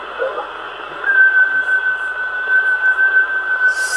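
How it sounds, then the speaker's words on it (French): A steady, thin whistle tone holds for several seconds over a hissing, band-limited CB radio channel with faint noise. "Tu peux repasser en sifflant un coup."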